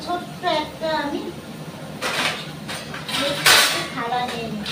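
A metal plate clatters and clinks against utensils nearby, with a few sharp bright strikes amid kitchen handling, while someone talks over it.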